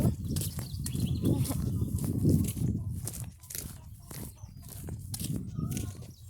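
Chickens cluck and scratch close by in a village farmyard, with pecking and rustling sounds and a busy, uneven rhythm throughout.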